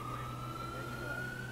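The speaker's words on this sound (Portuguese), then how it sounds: "Ligou a sirene, é pra gente." A siren holds a steady, slowly rising wail over a low engine rumble, loud and close throughout.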